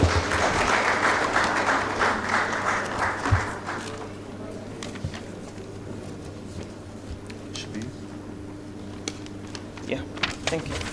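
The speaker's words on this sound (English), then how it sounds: "Let's give Dr. Matthew Ahmed a round of applause." An audience claps for a speaker at a national stakeholders dialogue on food security in Nigeria, a dense burst of applause that fades after about four seconds, leaving scattered claps and room murmur.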